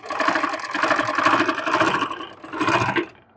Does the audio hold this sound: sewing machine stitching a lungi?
yes